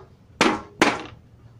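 Two sharp, close metallic knocks about half a second apart as a hammer drives a kitchen knife through a tin can to punch a hole, each strike ringing briefly before fading.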